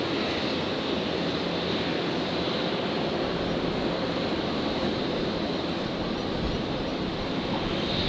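An Air Niugini airliner rolling for takeoff at Brisbane airport, a loud, steady broadband engine roar with a windy rush, sustained without letup and no voices.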